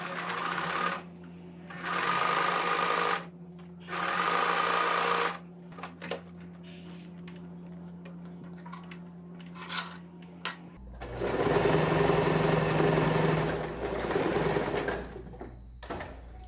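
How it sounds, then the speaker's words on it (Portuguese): A sewing machine stitches poncho fabric for a cocoon poncho in several short whirring bursts, followed by a longer steady run near the end, each burst close and clear against a quiet room. "Vamos costurar?"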